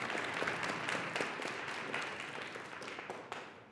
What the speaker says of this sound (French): Oui, bon applaudissement.